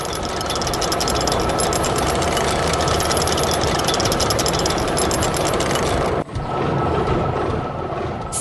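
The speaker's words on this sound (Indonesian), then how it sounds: "Traktor merah sedang menggemburkan tanah dengan plow-nya" A red tractor works a field, its engine running loud and steady with a rough, knocking rumble that holds constant apart from one brief dip near the end.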